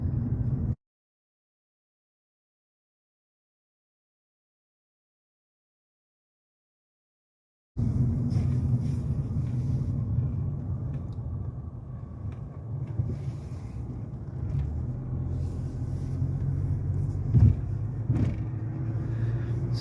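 A car driving, heard from inside as a steady low engine and road rumble with some wind noise, starting after a long silent gap and continuing evenly with a couple of small knocks.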